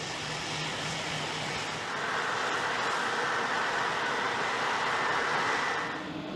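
A US Air Force E-8 surveillance aircraft with a radar mounted under the forward fuselage produces a steady, loud jet roar that swells slightly midway and holds as a broad continuous drone.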